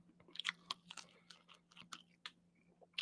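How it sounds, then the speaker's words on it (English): Crunchy chicken wings being eaten up close, with a run of irregular crisp bites and wet chewing crunches, moderately loud with short pauses between, no talking. "I'm eating this chicken."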